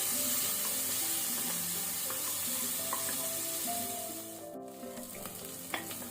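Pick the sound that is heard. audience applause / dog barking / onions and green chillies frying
onions and green chillies frying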